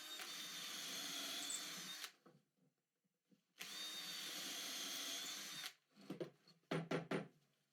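A power drill bores holes in cut wooden triangles for an assembly to be screwed to a cabinet, giving two sustained whining bursts of a couple of seconds each, close and loud, followed by short clattering handling and tool knocks.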